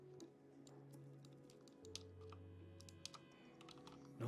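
Quiet, close mouse and keyboard clicks while 3D modeling on a computer, irregular sharp ticks scattered over a low steady hum, with no talking.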